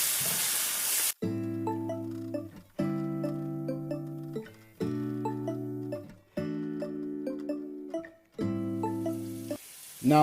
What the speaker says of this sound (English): We'll just stir this around until it all comes together.